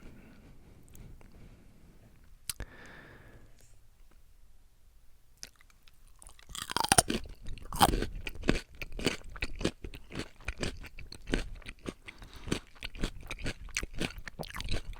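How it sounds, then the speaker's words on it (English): After a few quiet seconds with faint rustling, loud, close crunching begins as someone chews crisp raw vegetables in rapid repeated bites. "I know some of you guys really like the crunch sounds, and I also just happen to love crunchy vegetables"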